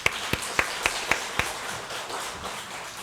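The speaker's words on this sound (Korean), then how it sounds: "박수하겠습니다" A handful of sharp, separate hand claps ring out in a Korean church Sunday service as the congregation welcomes newly registered members; about six distinct claps come in the first second and a half, then thin out into quiet room tone.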